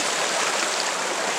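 A shallow rocky stream sloshes and rushes around someone wading through it in shoes, a close, steady broadband wash of moving water with no pauses.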